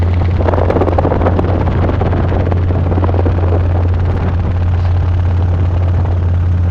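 Robinson R22 helicopter in flight during a training lesson, a steady loud rotor and engine drone with a strong low hum running unbroken throughout, no voices over it.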